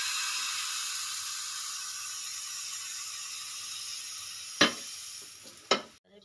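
Patishapta pitha batter spreads over a hot, oiled tawa with a steady hiss that gradually softens, followed near the end by two sharp metallic clicks.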